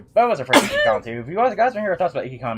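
A single sharp sneeze bursts out early, close to the microphone, in the middle of continuous conversational talk about a Nan Desu Kan anime convention.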